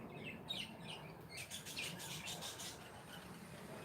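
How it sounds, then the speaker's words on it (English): Many small birds chirp and tweet outdoors ahead of coming rain, a busy mix of bright overlapping calls at moderate distance over a steady low background rumble, with no talking. "There's a lot of birds around here today."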